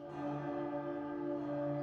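Church bells in the Twisted Wonderland video game ring with steady sustained tones, loud and resonant, overlapping strikes blending into a continuous chime.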